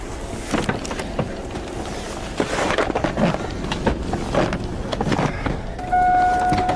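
A car moves along with a steady road rumble and scattered clunks and thumps, ending with a rising whine, all fairly loud and close, with no voices.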